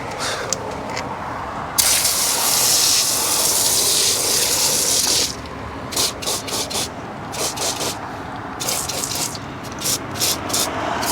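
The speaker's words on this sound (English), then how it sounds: "we got the IK foam sprayer" An IK foam sprayer wets BMW wheels caked in brake dust with PNS Brake Buster, a loud close hiss lasting about three seconds, followed by shorter rhythmic spurts of spray.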